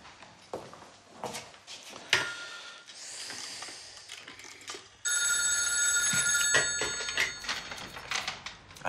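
A telephone rings in a quiet French room, with a bright repeating ring beginning partway through and continuing loudly over light background clatter.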